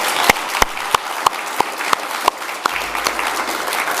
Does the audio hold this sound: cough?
no